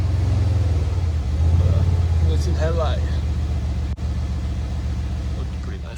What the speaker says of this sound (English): then we'll start it and see if it drives out of this garage